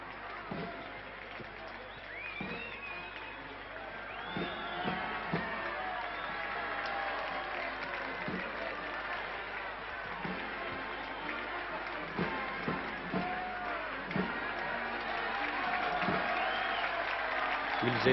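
A dense crowd of around 50,000 cheers and shouts at the 1974 French presidential investiture, a continuous distant roar of voices with scattered claps, while a commentator talks over it.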